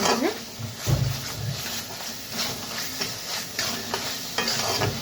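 Spice paste for a potato and pointed gourd curry is stirred and sautéed in a pan, with a gentle sizzle under repeated scraping stir strokes and a few faint voices.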